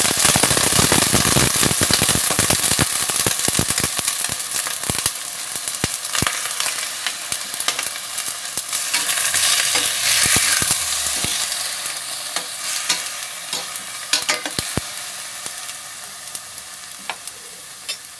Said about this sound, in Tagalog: Pag ginigisa ko yung karne, hindi ko masyadong sinusunog tong mga sibuyas at saka bawang